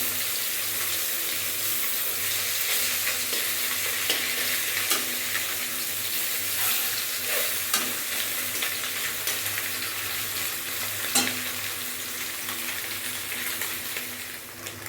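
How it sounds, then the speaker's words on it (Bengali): Fish fries in a hot iron wok (kadai) with a dense, loud, steady sizzle and spatter, punctuated by a few sharp clicks from turning and stirring, no talk. "মাছগুলো আমি এইভাবে আস্তে আস্তে ভেজে নেব।"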